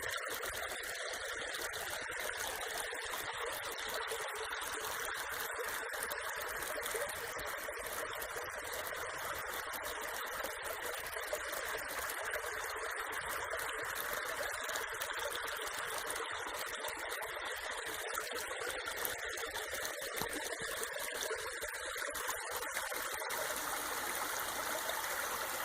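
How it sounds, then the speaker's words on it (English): Creek water flows steadily through a canyon in Sonoma County, a continuous bright rushing and trickling that stays even and close for the whole stretch, with no voices over it. "This is a spot where we cross the creek to get down into the bottom of the valley."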